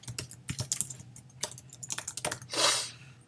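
Quick, uneven keystrokes clatter on a computer keyboard close by, with a short burst of steady typing and a louder swipe near the end, no talking.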